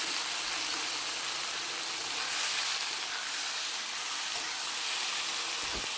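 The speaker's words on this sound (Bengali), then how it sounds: "এখন ঝিঙ্গা আর আলুকে অল্প ভেজে নিতে হবে।" Ridge gourd and potato pieces frying in a pan of oil, giving a steady, close, bright sizzling hiss that runs evenly throughout with no voices.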